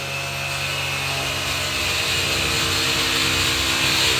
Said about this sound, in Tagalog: May nagagrass cutter naman po dito.